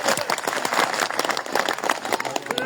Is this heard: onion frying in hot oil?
no